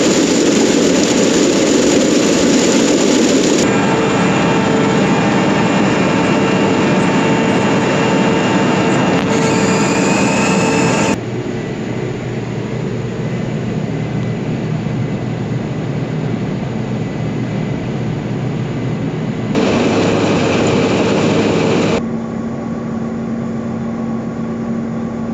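Cotton picker running in a field during cotton harvest, a steady loud engine and machinery drone with shifting tones as the load changes, no talking.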